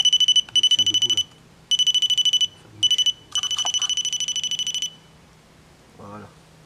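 A paranormal REM pod alarm and K2 meter go off in loud, rapid, high-pitched beeping bursts that stop and restart several times, close by, with a voice speaking briefly after they fall silent.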